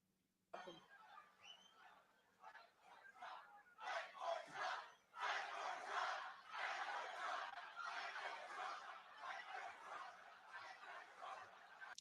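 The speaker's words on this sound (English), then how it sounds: "You guys hear that crowd? They are getting fired up." Rally crowd shouting and roaring, heard at a distance: after a quiet start, rising waves of massed voices swell and hold loud and continuous, with cheers and whoops throughout.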